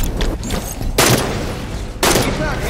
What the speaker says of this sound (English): The sniper rifle.